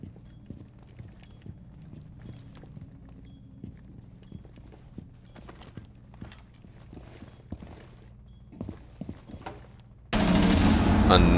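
Rainbow Six Siege gunfire: sparse, sharp shots and clicks scattered over a quiet in-game background, followed by a sudden burst of louder noise at the very end.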